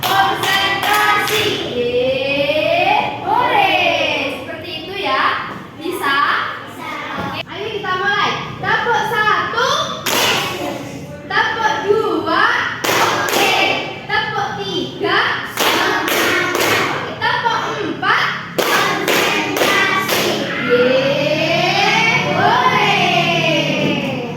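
A classroom group claps out rhythmic patterns together, with bursts of sharp, synchronized claps and thumps, some kids cheering, and an adult and children talking and chanting between the clap sequences.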